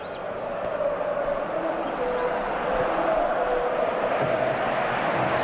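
A capacity crowd of just over 80,000 fills a football stadium during a Real Madrid match, a steady dense roar of voices holding at one level throughout, with faint chanting tones running through it and no clear single voice.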